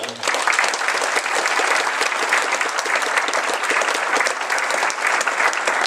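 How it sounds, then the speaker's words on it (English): An audience at a gathering applauds a woman, with steady, dense, fairly loud clapping that continues evenly for several seconds. "Please give her a round of applause."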